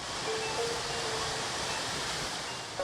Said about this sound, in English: Just below, the river narrows and falls again